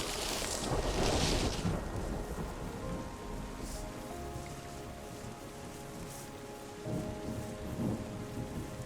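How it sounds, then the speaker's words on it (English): In the video game Terra Nil, steady rain patters with a low rumble of thunder rolling in the background, a faint continuous storm ambience with no voices. "it's raining!"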